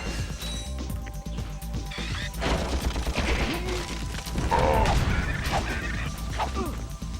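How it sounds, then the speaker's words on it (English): Enemy death sounds from the Ratchet and Clank video game, heard as punchy impacts and crashes with bursts of weapon fire over a dense, busy game soundscape. "I love the sound those guys make when they die. It sounds like it just punched them right in the gut."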